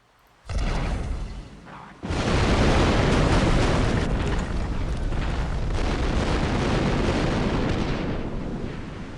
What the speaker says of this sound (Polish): Piękne widowiskowe wybuchy.